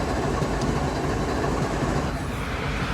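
Rumbling diesel locomotive engine of CSX 1973, the lead unit in a lashed-up consist, chugging steadily and loudly up close with a continuous low throb and no talk.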